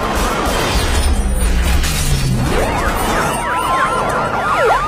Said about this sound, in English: Just follow the sirens.